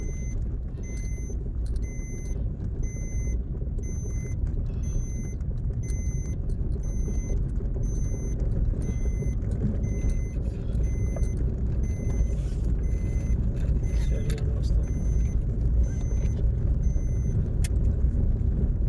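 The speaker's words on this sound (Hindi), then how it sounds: "देखो सामने से एक गाड़ी आ रही है" A car comes up a narrow single-lane mountain road on the way to Badrinath, a low, steady engine rumble with tyre noise that holds fairly constant for the whole stretch, heard without talking.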